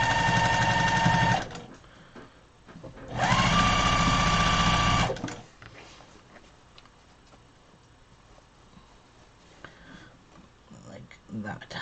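A sewing machine stitches a large grocery tote bag with the seams facing up, running in two loud bursts of steady whirring near the start and middle, followed by quieter handling of the fabric and a voice talking.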